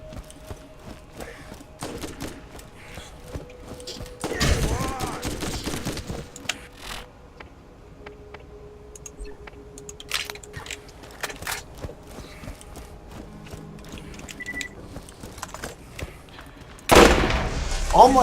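Weapon fire in the video game Borderlands, scattered shots and short bursts with louder volleys at intervals, heard among game noise while a person talks.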